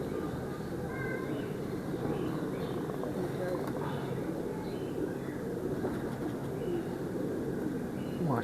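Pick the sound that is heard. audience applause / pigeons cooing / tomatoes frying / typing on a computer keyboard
pigeons cooing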